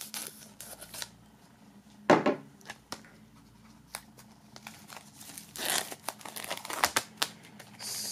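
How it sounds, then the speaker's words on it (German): Items are unwrapped from plastic film, torn open at the heat-sealed seam, giving close crinkling and rustling with a few sharper tearing bursts throughout. "Dann werden wir erstmal die beiden hier aus der Folie holen."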